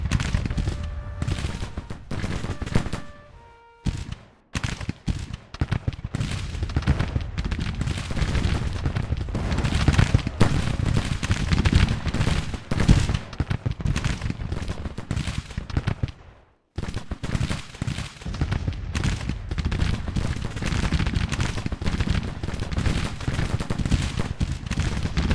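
Cannon and musket fire rumble in the Civil War strategy game Grand Tactician, a dense, continuous battle din of overlapping shots and booms with only a couple of brief lulls.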